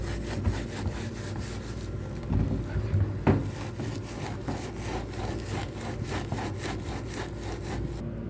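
A kitchen exhaust hood is scrubbed by hand, with steady rhythmic back-and-forth rubbing strokes and an occasional knock, close and continuous.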